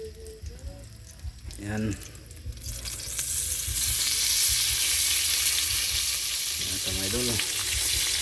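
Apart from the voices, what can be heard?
fish frying in a pan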